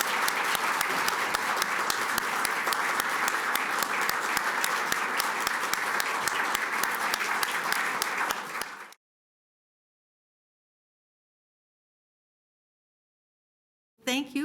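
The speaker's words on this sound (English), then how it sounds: "let's give a big round of applause for the candidates" Steady, dense applause from a judicial candidate forum audience lasts several seconds, then cuts to silence before a brief burst of clapping returns at the end.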